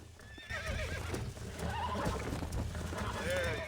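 In the video game Red Dead Redemption a horse neighs and whinnies repeatedly while its hooves clip-clop steadily underneath, loud and continuous, with a voice speaking over the game sound.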